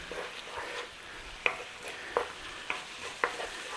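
Meat sauce stirred in a pan with Dijon mustard and tomato puree, soft scraping strokes over a faint sizzle, with a few sharp spoon clicks against the pan.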